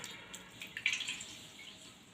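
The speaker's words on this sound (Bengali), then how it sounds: "আমটাকে আমি ভালো করে কচলে কচলে ধুয়ে নেব" Mango pieces are rubbed and washed by hand in a bowl of water, making soft splashes and drips that rise briefly and then fade, close and quiet, with no talking.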